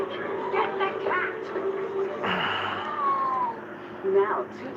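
A cat meowing with drawn-out wavering cries mixed in with people talking and indoor household sounds, moderately loud throughout.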